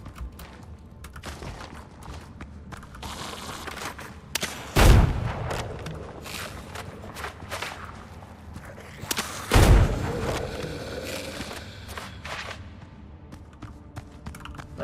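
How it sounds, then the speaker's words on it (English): Gunfire in the video game Windrose: two heavy, booming shots land several seconds apart, each with a short rumbling tail, over quieter creaks and mechanical clatter in between. "I'll just shoot you to death"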